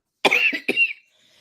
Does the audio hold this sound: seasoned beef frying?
no